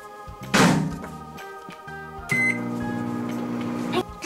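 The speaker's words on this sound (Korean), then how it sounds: "전자레인지로 렛츠고!" A microwave oven hums steadily after a door thunk, its drone running for several seconds before stopping with a click, while a small pizza kit is warmed inside.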